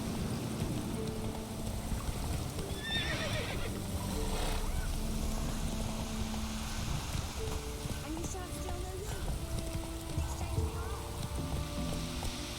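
Horse galloping across open ground in the video game The Witcher 3, with steady hoofbeats under dense rushing ambience and soft game music, plus a brief neigh-like cry early on.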